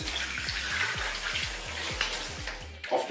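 Water flushes through a new PC water-cooling radiator, a continuous gushing splash with repeated low gurgling pulses roughly every quarter second, close by, before the flow cuts off near the end.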